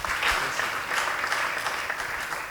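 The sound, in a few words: audience applause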